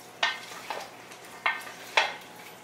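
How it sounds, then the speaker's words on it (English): A spoon scrapes and stirs through a dish with olives and mint in four short, separate strokes, quiet and close, with no talking. "And now I'm gonna give it a stir."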